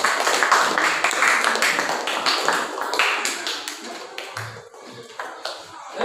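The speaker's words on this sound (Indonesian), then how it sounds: "Beri tepuk tangan kepada kelompok 1." A classroom of students claps for a group after its presentation, a dense burst of hand clapping that is loud at first and gradually thins and fades over several seconds.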